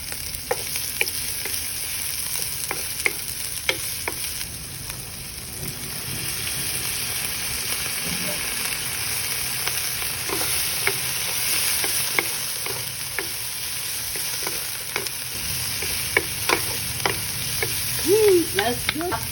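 Spring onions sizzle and crackle steadily in a frying pan for adobong shrimp with coconut milk, with repeated sharp scrapes and clicks of stirring throughout and no talking.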